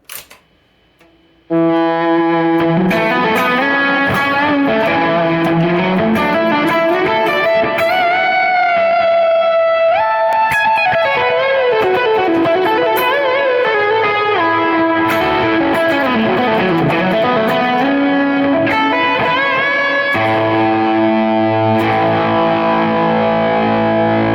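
A sustained, distorted electric guitar lead with rich reverb and delay, ringing notes and bends forming a big, soaring melody that fills the space.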